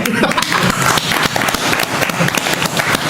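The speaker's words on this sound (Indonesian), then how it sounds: "Tepuk tangan buat TP" Lively clapping from a small group of streamers in a room, dense and loud throughout with voices and chatter mixed in.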